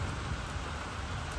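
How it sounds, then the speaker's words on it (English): Heavy storm rain pours down outdoors during a thunderstorm, a dense, constant hiss of drops hitting surfaces with no break and no voices. "Rain is just like pissing down now."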